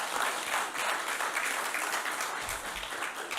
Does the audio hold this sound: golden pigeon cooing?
no